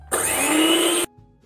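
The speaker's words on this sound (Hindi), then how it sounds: "अब थोड़ा सा मैं इसको और बीट कर दूंगी ताकि जितना भी ये पिस्ता है ये अच्छे से इसमें मिक्स हो जाए।" A hand mixer or electric beater whirs steadily as cream is whipped with pistachios for homemade ice cream, a loud continuous motor drone running about a second before cutting off abruptly into near silence.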